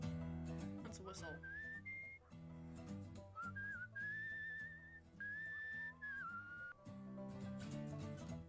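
A whistled melody plays in the video game Where the Water Tastes like Wine. The clear, sliding notes rise and bend above a plucked musical backing, loud and upfront.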